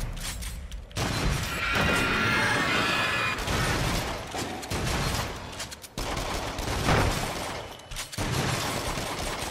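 Rapid gunfire and shotgun blasts from shooting in the VR game Rush of Blood, loud and dense, coming in heavy sustained bursts with brief gaps between them.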